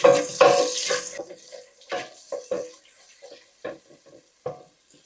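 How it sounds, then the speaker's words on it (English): A utensil stirs and scrapes burnt bits from the bottom of a frying pan, heard as a loud sizzling rush at first, then a series of separate scraping strokes in uneven rhythm. "We want to pick up all the burnt bits at the bottom of this pan."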